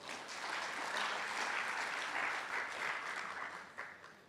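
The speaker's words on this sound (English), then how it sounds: "So can we give the sister departments under the leadership of the Office of the Premier a very big round of applause?" Sustained applause from the audience at a provincial education indaba, steady and fairly close, with a voice faintly heard toward the end.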